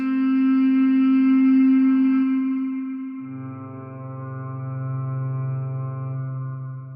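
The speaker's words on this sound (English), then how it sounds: "So for this kind of reversed kind of harmonica sound," A sustained, buzzy harmonica-like tone with a swelling, backward-sounding attack, shifting to a lower droning note partway through, washed in echo and reverb.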